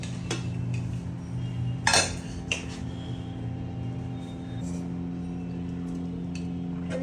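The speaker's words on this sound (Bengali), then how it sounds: "দাঁড়াও ভাত তো দিয়ে নি, বেড়ে নি" Plates and cutlery clink at a home kitchen table while rice is served alongside tilapia curry and bottle gourd with prawns: a few sharp clatters near the start, then quieter scattered taps over a low background hum.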